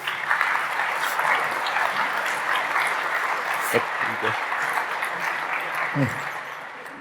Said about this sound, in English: I think this is worth a big applause for Andy.